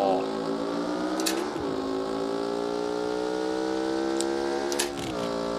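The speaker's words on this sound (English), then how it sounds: "This is like the best sounding engine in all of the game" A car engine in the BeamNG driving game, a custom Hirochi configuration, roars at high revs with a rich harmonic whine. Pitch dips briefly at two gear shifts, then climbs again, loud and continuous throughout.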